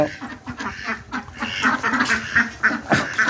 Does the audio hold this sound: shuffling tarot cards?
no